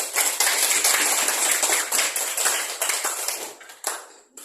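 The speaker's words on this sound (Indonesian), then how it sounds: "kita tepuk tangan dulu" A class of children clapping their hands together, a dense burst of many overlapping claps that stays loud and close for several seconds before tapering off near the end.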